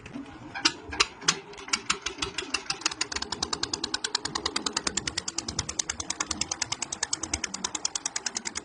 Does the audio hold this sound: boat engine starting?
yes